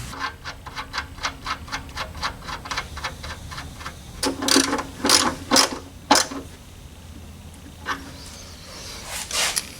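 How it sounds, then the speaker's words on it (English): A ratchet wrench working on a Pontiac 455 engine during an oil change with long tube headers: a steady series of quick ratcheting clicks, then several louder, slower metallic clacks, close up with no talk. "you've got to try to figure out how to get a wrench up in there to be able to turn it"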